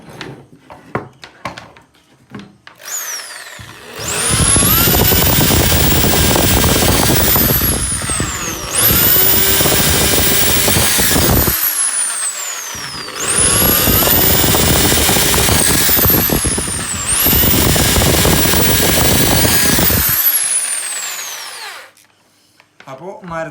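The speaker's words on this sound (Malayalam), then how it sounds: "ആദ്യം നമ്മളിത് മരത്തിനൊന്ന് തുളച്ച് നോക്കാം." A Bosch GSB 501 electric drill boring into wood, revving up into four long loud whining runs separated by brief pauses, close up, with some faint handling clicks before and after.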